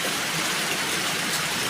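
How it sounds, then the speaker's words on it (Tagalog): Steady rain falls outdoors on a nipa hut under construction, with water being collected, a soft, even hiss of drops throughout and no voices. "Nakisama rin itong ulan na ito, oh. Nakasahod kami ng ulan."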